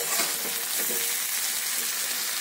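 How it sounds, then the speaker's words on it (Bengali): Eggplant seasoned with salt and turmeric frying in a pan gives a steady, loud sizzle with crackling spits and faint stirring scrapes, close and continuous, with no voices. "ঢাকা দিয়ে দিয়ে আমি ভেজে নেব।"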